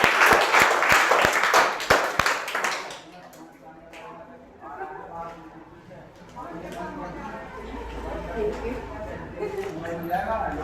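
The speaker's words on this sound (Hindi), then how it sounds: "तालियां बजाओ" Brief burst of clapping from a group of students at a class 12 exam result celebration, loud for about three seconds before fading into chatter and talk.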